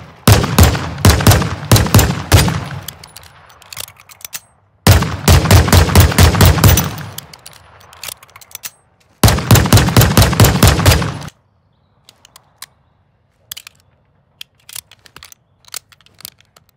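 Pistol fire in Call of Duty Modern Warfare 2, three loud bursts of rapid sharp shots with short pauses between, followed by sparse quiet clicks and taps of weapon handling.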